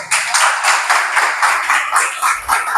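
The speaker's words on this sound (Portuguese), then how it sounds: "Dê uma salva de palmas nele forte." Church congregation clapping together in a steady, rhythmic beat, loud and close, each clap landing in unison for several seconds.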